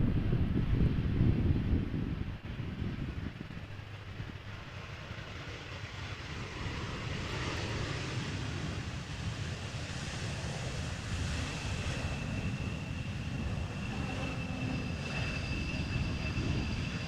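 Embraer airliner arriving at Amsterdam Schiphol Airport, a steady airy jet whine and rumble under gusty wind, moderately distant and even in level after an initial louder burst.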